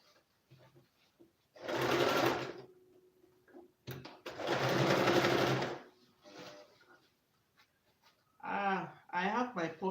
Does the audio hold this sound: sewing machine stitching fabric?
yes